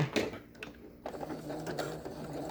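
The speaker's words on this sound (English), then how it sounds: "Zigzag stitch." A sewing machine runs a zigzag stitch while attaching paracord to a fabric face mask, a steady mechanical whir with rapid needle ticks that quiets briefly before resuming close by.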